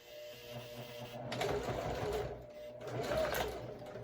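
A domestic sewing machine back stitching through a leather wallet, running in two steady bursts of fast mechanical needle chatter with a slight pause between, close and moderately loud.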